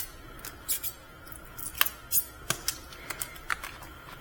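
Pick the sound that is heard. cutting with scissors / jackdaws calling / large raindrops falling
cutting with scissors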